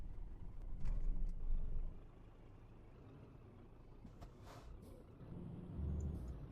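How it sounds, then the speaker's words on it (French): A Scania truck rolls past on the road, its engine and tyre rumble swelling twice from a quiet background, first briefly near the start and again toward the end. "je peux pas passer avant le camion. Un Scania le camion."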